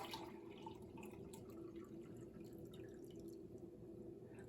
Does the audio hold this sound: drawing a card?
no